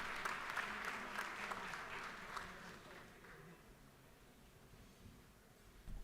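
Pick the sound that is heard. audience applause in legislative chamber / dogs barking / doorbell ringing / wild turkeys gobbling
audience applause in legislative chamber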